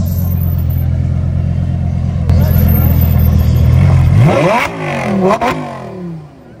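A Dodge Scat Pack engine held in torque mode, loud and close, with a steady droning roar that builds and then sweeps up sharply through a couple of quick revs before settling back toward idle.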